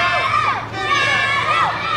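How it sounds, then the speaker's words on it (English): A wrestling-show crowd of kids screams and shouts for a clown wrestler, a loud, dense wall of high-pitched cheering that keeps going with a brief dip partway through. "All these sick and twisted kids here screaming for this psychopath clown."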